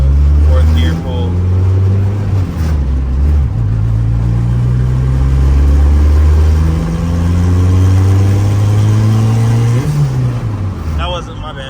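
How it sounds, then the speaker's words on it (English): A turbocharged Honda F20b engine makes a full-throttle 4th gear pull during street tuning. It is loud and close, climbing steadily through the revs in long rising sweeps, with a brief dip at each shift and a final lift-off. "we're gonna see if VTEC is still smooth enough to do a full throttle pull"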